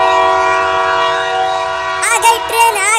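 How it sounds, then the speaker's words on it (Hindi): A train horn blares loud and sustained over the rumble of an arriving train, its tone shifting and wavering in bursts toward the end. "आ गई ट्रेन, आ गई ट्रेन, आ गई ट्रेन, आ गई ट्रेन।"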